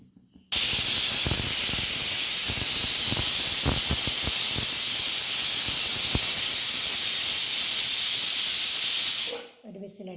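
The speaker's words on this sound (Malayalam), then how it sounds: "കുക്കർ അടച്ചിട്ട് നമുക്ക് സ്റ്റൗ ഓണാക്കാം." A pressure cooker on a stove, cooking a curry with crushed garlic and curry leaves, releases a loud continuous hiss of steam for about nine seconds before cutting off abruptly.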